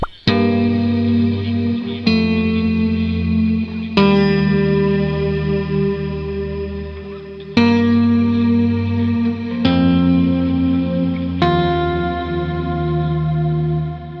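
Electric guitar plays ringing two-note chords in thirds, heavy with chorus, reverb and echo, each strum sustaining and fading before the next in a slow ambient progression.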